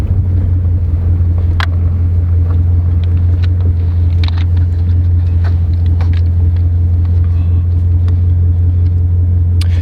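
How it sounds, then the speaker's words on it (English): A Ford Mustang GT350 on the street gives a loud, steady, deep engine rumble that holds through the whole clip, with wind buffeting and occasional clicks over it. "anything with this much horsepower and this amazing of an engine note, it's the best"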